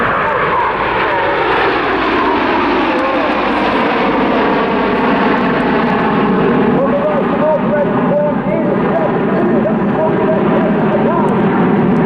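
Red Arrows jets performing the Spitfire Roll at the Southport Airshow, a loud continuous roar that swells and shifts pitch across the whole stretch.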